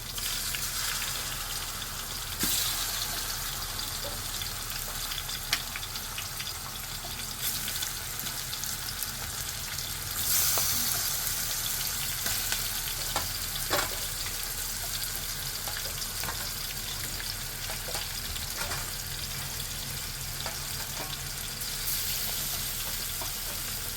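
Fish pieces frying in a pot for fish curry, a low steady sizzle running throughout with occasional faint clinks and crackles.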